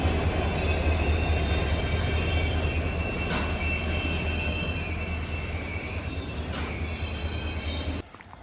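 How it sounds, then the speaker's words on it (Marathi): A passenger train in the Konkan rumbles along steadily at night with a low, continuous roar and a couple of brief metallic squeals from the wheels; no voices. "मग आम्ही ह्या ट्रेनमध्ये चढलो"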